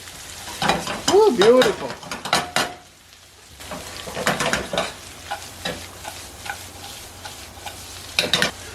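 Large-sliced garlic cloves frying in a pan, a close steady sizzle with utensil scrapes and pan clinks, broken by a short lull; a voice briefly speaks near the start.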